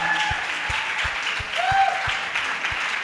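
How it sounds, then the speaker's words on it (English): An audience at an entrepreneurship development centre session claps steadily, a dense wash of applause with a few louder individual claps standing out, continuing throughout. "Please put your hands together for them."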